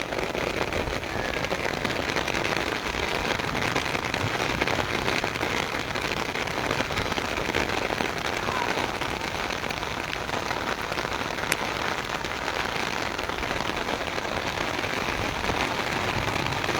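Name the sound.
torrential rain in Taunsa Sharif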